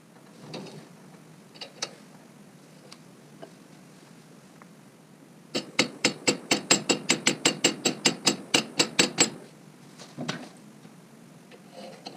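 A press driving a 13 mm socket against a 27 mm backing socket forces a sleeve bushing out of a Honda Africa Twin sidecar rig's leading-link fork, giving a close, rapid run of even ratcheting clicks lasting several seconds amid quieter scattered clanks.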